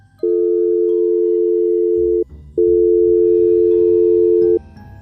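A telephone line tone plays as two long, loud steady beeps, each about two seconds, separated by a brief click and gap, with faint low background noise.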